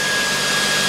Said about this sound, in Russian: Вот мы слышим, как заработали вентиляторы, все охлаждается